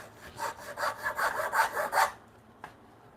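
A hand saw cross-cuts wood in a home workshop with about eight steady, rhythmic rasping strokes, close and clear, then stops, leaving a single small knock afterward.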